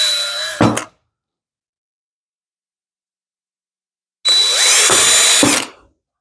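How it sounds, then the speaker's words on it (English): A power drill whirs through ABS plastic in two bursts, a short one at the start and a longer, louder run near the end, separated by silence. "I'm just going to start the fun process of drilling out the holes."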